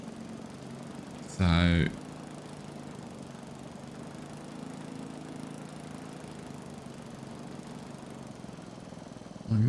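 A lawn mower runs steadily in a farming video game while a field is mowed, a low continuous engine drone under a voice, with two brief louder bursts of speech near the start and end.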